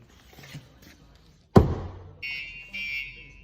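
A sharp thump, a light knock on a Ford Transit Custom MS-RT, is followed by the StarLine S-Series alarm's warn-away tone chirping in short bursts, moderately loud and close.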